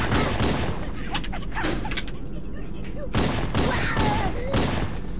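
Gunfire in a Halo video game comes as bursts of rapid shots and explosions, loud and dense throughout, with voices talking over the battle.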